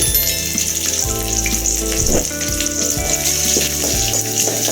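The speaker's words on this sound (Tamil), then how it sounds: "பச்சை மிளகாய் இப்படியே வறுத்து எடுத்தால் காரம் கொஞ்சம் கம்மியாக இருக்கும்." Green chilies, cumin and chana dal frying in hot oil for rava idli, a dense continuous sizzle close by with light stirring and scraping throughout, no talking.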